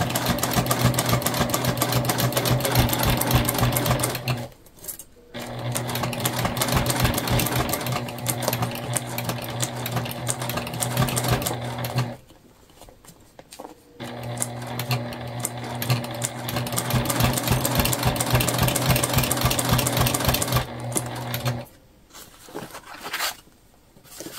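Sewing machine stitching a Dayna Pack, running in three long rapid bursts separated by brief pauses, close and clear with no voices.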